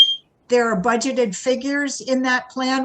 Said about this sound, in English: that was my fire alarm if you heard the squeak.